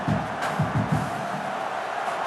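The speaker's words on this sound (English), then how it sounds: "Listen to this crowd just shaking the girders of this place, trying to help their defense." Stadium crowd roaring at an LSU college football game against Western Kentucky, a dense, sustained wall of cheering with a few swelling bursts at the start, loud and continuous throughout.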